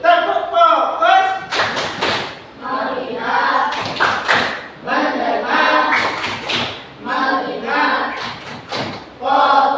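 An elementary school class performs a rhythmic 'tepuk fokus' focus clap, sharp bursts of many hands clapping in a patterned beat between short chanted words from the children.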